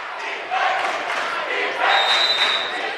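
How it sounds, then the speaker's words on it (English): A student crowd cheers and roars in a high school gym during a boys basketball game between Pleasant Grove and Timpanogos, a steady loud mass of voices that swells midway, with a shrill whistle-like tone cutting through near the end. "the Viking students with something to cheer about here"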